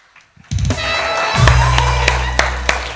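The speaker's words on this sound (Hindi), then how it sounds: "बहुत सारी तालियां" Studio audience applause on a Pakistani TV morning show, a broad steady wash of clapping rising after a brief pause and holding loud, with a low hum beneath and a few sharper claps standing out.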